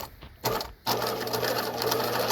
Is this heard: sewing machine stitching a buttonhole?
yes